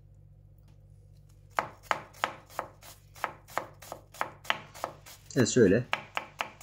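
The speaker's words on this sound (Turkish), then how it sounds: "3 adet Charleston biber doğrayacağız." Knife chopping three Charleston peppers on a board for Kayseri yağlaması: a steady series of about fifteen crisp, evenly spaced cuts, close and clear, with a short denser burst of quicker chops near the end and a brief spoken word.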